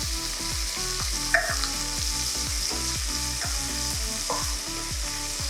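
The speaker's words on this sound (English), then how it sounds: "To this, I'm going to add 2 small onions," Thinly sliced onions fry in hot oil with cardamom, bay leaf, peppercorns and cumin seeds, a constant close sizzle under a steady rhythm of spoon strokes scraping the pan about twice a second.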